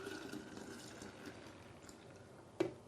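Faint, brief pour of a liquid ice cream mixture into a Cuisinart ice cream maker, a soft continuous trickle ending with a small splash or clunk near the end.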